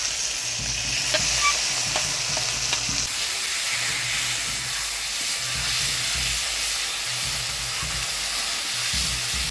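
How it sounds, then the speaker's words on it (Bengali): A ground paste of ginger, cumin, chili and onion fries in hot oil with a steady loud sizzle and hiss, with intermittent low scraping and stirring throughout. "এবার দিয়ে দেবো বাটা মশলা, আদা জিরা লঙ্কা পেঁয়াজ বাটা।"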